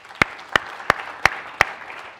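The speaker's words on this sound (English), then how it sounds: "Actually, let's applaud them." Five sharp, evenly spaced claps ring out at a university debate on consciousness and God, each a distinct crack over a faint patter of scattered audience clapping.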